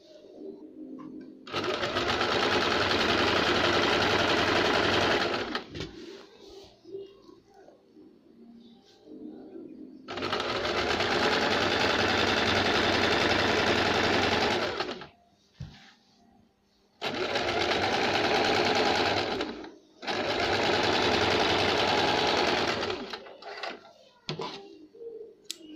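A sewing machine stitches the seams of a jumpsuit in four long, loud runs of steady whirring, separated by short pauses with quiet handling sounds.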